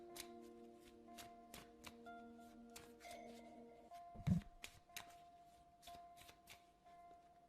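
Oracle cards being shuffled, a sequence of crisp, quiet card flicks and riffles at an uneven rhythm, close by with no talking.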